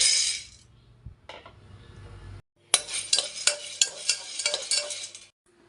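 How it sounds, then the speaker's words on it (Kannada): Dry field beans roasting in a dry pan on a home stove, stirred with a spatula: bursts of scraping and rattling, a short pause, then a busier run of clinks and scrapes, close and fairly loud. "ಫಸ್ಟು ನಾವು ಒಣ ಅವರೆಕಾಳನ್ನ ಹುರ್ಕೋಬೇಕು"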